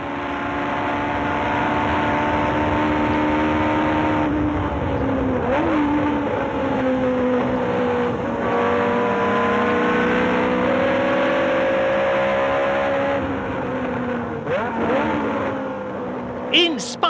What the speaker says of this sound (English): Now the Ferrari rockets away on acceleration, passing a Brabham on the approach to the stadium.